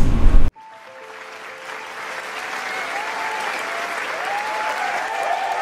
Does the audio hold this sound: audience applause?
yes